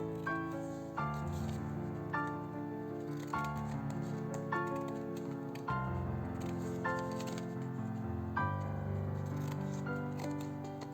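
Scissors cut off the paper edges of a mini pink journal in a run of crisp snips every second or two, close up and steady, with faint musical tones underneath and no talking.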